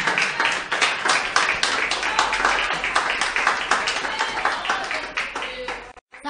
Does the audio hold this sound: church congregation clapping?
yes